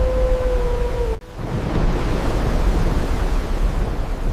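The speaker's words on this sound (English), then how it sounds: "The rivers burst beyond their banks, swallowing the land with unstoppable force." Torrential flood water and rivers bursting their banks, a dense roaring rush of water that cuts out abruptly for an instant, then surges back in steadily, loud and close with no voices.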